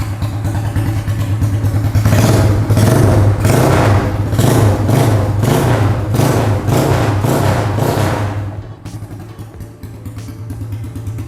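A chopper motorcycle engine with a long free-flow exhaust runs loud and close, a deep pulsing throb rising as it revs in repeated surges, then dropping back to a lower idle near the end.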